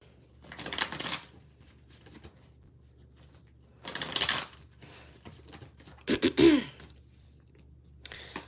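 Three separate bursts of tarot cards being shuffled, riffling close and crisp, separated by quiet pauses, with a brief throat clearing near the end.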